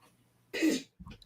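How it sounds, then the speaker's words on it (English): A single short throat-clearing cough bursts out in a quiet indoor room during a podcast, followed by a faint voiced sound. "Just had to cough."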